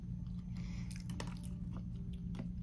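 Soft banana cake from a New York bakery, its top crunchy with sprinkled sugar, being chewed close up: quiet, irregular bites and light crunches over a steady low room hum, with no talking.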